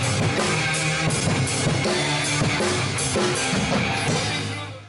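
A drum kit plays along with a recorded song. Snare and bass hits and cymbals sound steadily and loudly over dense band music, with no talking.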